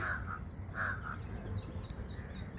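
Flamingos calling at a lake, a few harsh honking calls in short bursts, moderately distant over steady background noise.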